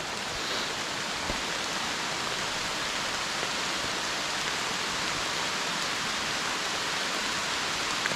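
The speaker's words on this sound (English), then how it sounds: "the rain does not help this situation." Steady rain falls at a backcountry campsite in Algonquin during a fall solo trip, a dense, even hiss that holds at constant loudness across the whole stretch with no voices.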